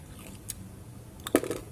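Crunchy homemade egg-white cheese puff snack (telur gabus keju) being bitten and chewed, a few brief crisp crunches close by near the end after a quiet pause.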